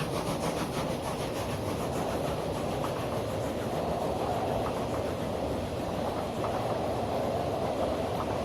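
A train in Transport Fever rolls along rails with a loud, continuous grinding rumble and faint repeating clacks, steady throughout with no voices.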